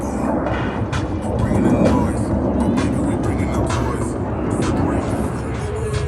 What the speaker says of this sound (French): Un avion seulement, un avion sur le dos, regardez ce croisement, inversion, sans précipitation.